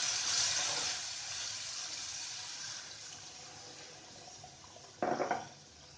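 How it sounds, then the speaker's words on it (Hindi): Water pours and splashes into a pan of fried paneer in a steady stream that fades out, followed by a brief clatter of cookware near the end. "अब इसमें थोड़ा सा पानी डालेंगे हम।"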